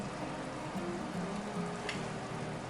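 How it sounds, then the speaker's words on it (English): Chokecherry jelly bubbling back up to a boil in a pot, a steady, close hiss of dense bubbling with faint popping and a single sharp tap near the end. "it will definitely come back to a boil, which it's doing right away"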